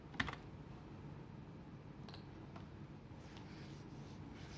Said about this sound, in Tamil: உங்களுக்கு கீபோர்டில் தட்டிகிட்டே வரேன்